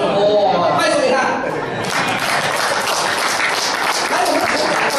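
A church congregation breaks into applause during a sermon. A voice speaks briefly first, then broad, continuous clapping fills the rest of the moment.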